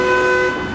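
A car horn blasts loud and close in one sustained toot that fades slightly toward the end, with no voices over it.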